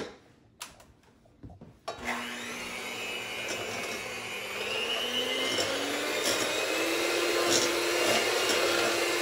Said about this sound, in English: My hand mixer.